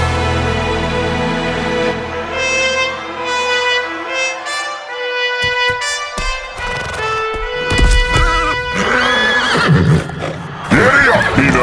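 A horse gives a long, loud whinny followed by snorting and further neighs, close by and alone.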